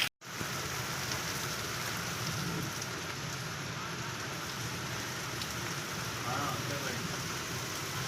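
Heavy stormy rain pours steadily onto a road in a dense, unbroken hiss, with no clear engine of a passing bike standing out from the downpour.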